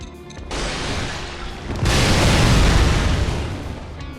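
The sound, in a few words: explosion in a video game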